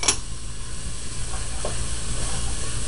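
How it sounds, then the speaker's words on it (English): Shallots and garlic sizzle steadily in a hot pan, a continuous close frying crackle with a brief stir near the start and no talking. "Like always, we have a nice sizzle going."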